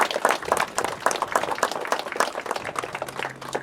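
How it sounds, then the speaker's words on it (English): A crowd applauds the organizing committee at a 30th anniversary celebration of a heritage railway and carousel company, a lively patter of many hands clapping at close range, fairly loud and sustained with no voices over it. "Please give them a round of applause for all the hard work"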